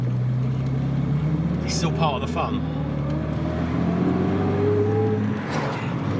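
A Jaguar E-Type engine drones steadily from inside the cabin as it pulls away cold on choke, rising slightly in pitch, while someone talks over it.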